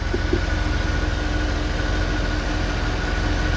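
A 2010 Mercedes E63 with 173k km idling at about 650 RPM, a steady low, even engine rumble held close and constant with no talk.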